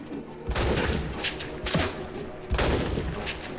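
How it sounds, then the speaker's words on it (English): Rapid automatic fire from a PPSh submachine gun in the online game CRSED, coming in dense bursts of rattling shots over a steady game background, loud and close. "the PPSH is rough to shoot"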